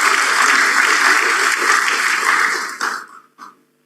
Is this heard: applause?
yes